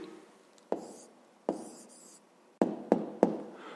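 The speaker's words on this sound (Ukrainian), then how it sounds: "зараз записуємо відповідь. Пишемо відповідь" A pen writing an answer into a math exercise book in a Ukrainian fifth-grade lesson, heard as a faint, steady scratching broken by several sharp taps, each followed by a short stretch of writing. Nobody speaks.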